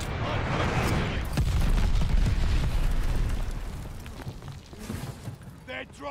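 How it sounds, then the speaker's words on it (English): A glide bomb explodes in Call of Duty Vanguard with a heavy, rumbling boom that swells and slowly fades, followed by scattered crackles and a few sharp pops, while voices speak alongside. "Friendly sending a glide bomb"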